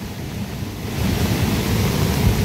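A river swollen by heavy overnight rain rushes in a steady, loud, broadband roar that grows stronger partway through, with some wind buffeting and no talking.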